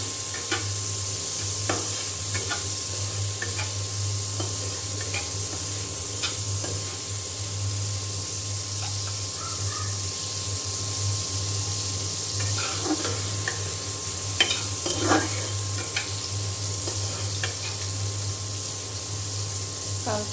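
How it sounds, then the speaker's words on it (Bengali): Prawns frying lightly in hot oil in a home kitchen, a steady soft sizzle running throughout with occasional stirring scrapes and a low hum beneath, no talking. "এখন এই তেলের মধ্যে আমি চিংড়ি দিয়ে দিয়েছি। চিংড়িগুলো একটু হালকা ভেজে তুলে নেব।"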